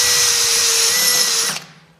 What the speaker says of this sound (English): my Makita drill with, let's see here, two bars on the battery can tap 1-inch